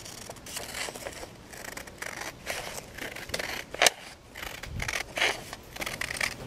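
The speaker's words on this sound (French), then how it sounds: "Je vais découper le contour de la photo." Scissors trim around the outline of a photograph, giving a string of crisp snipping and paper-rustling sounds at uneven intervals, close and fairly quiet, with no talking.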